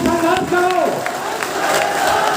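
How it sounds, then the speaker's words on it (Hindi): Crowd at a political rally in Uttar Pradesh applauding and cheering, a loud, steady wash of clapping and voices that fills the whole stretch, with a few shouts rising above it. "आप लोग तालियों में दम नहीं है"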